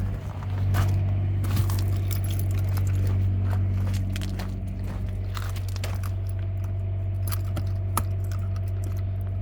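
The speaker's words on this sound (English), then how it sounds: "Grab the keys." Keys are grabbed and jingle in light, scattered metallic clinks over a steady low background hum.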